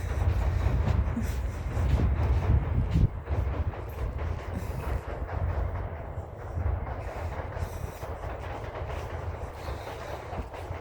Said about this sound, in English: I love the sound of the trains.